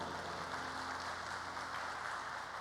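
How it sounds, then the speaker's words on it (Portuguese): Steady, faint applause from an audience at a church-style business gathering, a continuous wash of clapping with no talking over it. "Dê uma salva de palmas ao Senhor"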